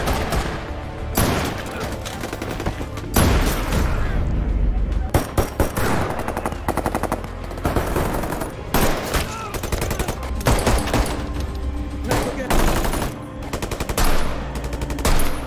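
Heavy gunfire from an action film about a bank robbery with snipers, with rapid machine-gun bursts and single shots over a dense, loud soundtrack and occasional voices.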